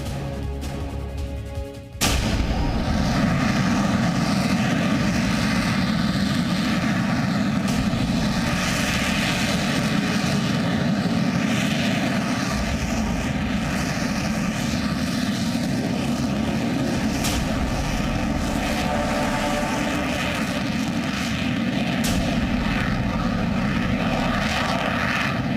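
A Sukhoi Su-30MKI fighter jet fitted with a made-in-India engine gives off a loud, steady, unbroken roar. The roar swells in within the first two seconds and holds close and powerful for over twenty seconds.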